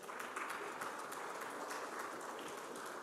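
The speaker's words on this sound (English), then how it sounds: "I think you all deserve a round of applause." Steady, dense applause from an audience at a policy forum on women, jobs and markets, faint and distant, holding even for the whole stretch with no voices above it.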